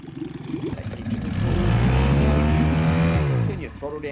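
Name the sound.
outboard motor starting and running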